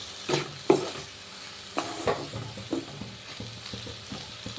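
A spoon scrapes and clacks through a bean, bori and peanut curry in a pan, several distinct strokes over a soft, low frying sizzle, close and fairly quiet.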